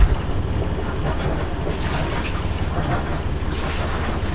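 A Beneteau Oceanis 38.1 sailboat's engine idles steadily with a low rumbling drone, a brief jolt at the start as it catches, then an even running hum.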